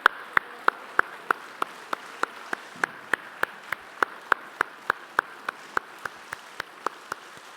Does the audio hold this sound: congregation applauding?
yes